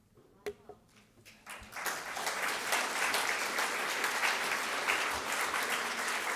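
A historical society lecture audience breaks into applause after a few scattered early claps, swelling into a dense, sustained round of clapping that carries on steadily.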